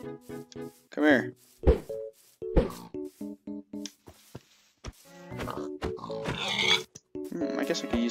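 Pigs in Minecraft give short repeated grunting oinks in clusters, loud and close, with a player's voice and bursts of game noise breaking in between them.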